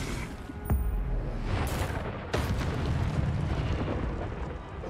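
The Incendio fire spell in the Hogwarts Legacy video game goes off as a sharp burst followed by a sustained, loud fiery roar, with a second crackling blast a moment later inside a dense game soundscape.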